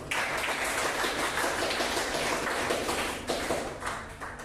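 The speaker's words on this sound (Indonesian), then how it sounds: "Tepuk tangan ya." Classroom applause from a group of teacher-training students at the close of a session, a steady broadband patter of many hands clapping at once that keeps up evenly throughout, fairly close, with no talking over it.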